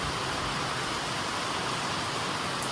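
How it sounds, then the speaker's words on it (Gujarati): Heavy rain pours down in a dense, steady hiss that stays loud and unbroken throughout, with no voices. "વરસાદ બહુ આવે છે"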